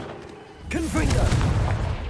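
A Confringo fire spell blasts in the Hogwarts Legacy video game, a sudden loud burst followed by a low, rolling rumble that lingers, with a shouted voice over it.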